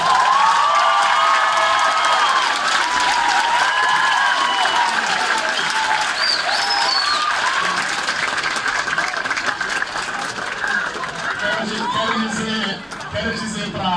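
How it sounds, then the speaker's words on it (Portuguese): A lecture audience in Portugal bursts into loud, sustained applause mixed with cheering and crowd chatter, the clapping steady throughout, with voices rising over it toward the end. "Eu quero pedir uma salva de palmas a Rui"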